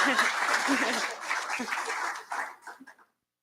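Audience at an annual reorganizational meeting applauds the activities committee volunteers, a lively burst of clapping with some voices and light laughter that thins out and stops after about three seconds.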